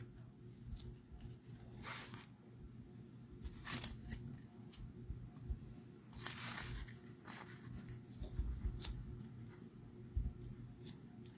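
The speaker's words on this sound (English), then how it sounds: "let's trim that with the bigger scissors" Large scissors snip through cardstock during card making, giving several separate crisp cutting bursts spaced a second or two apart over a low background hum, with no talking.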